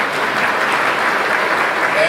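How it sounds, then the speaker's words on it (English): Gala audience at a masquerade ball applauding, a loud continuous wash of clapping from a large crowd that fills the whole two seconds without a break. "Ladies and gentlemen, please join me for another round of applause for Mr. Michael Schiff"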